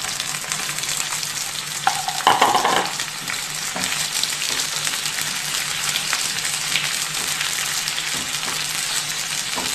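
Jackfruit pieces frying in hot mustard oil in a kadai, a loud dense crackling sizzle throughout with a brief clatter early on as the spatula moves.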